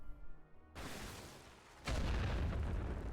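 An enemy trench blown up in The Great War: Western Front: a brief lead-in, then a heavy boom at about the one-second mark, followed by a bigger, sustained blast rumble that lingers to the end, with no talk.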